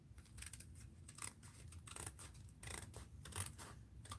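Scissors cut through sticky-backed material in several quiet, close snips and crisp slicing strokes at an uneven pace.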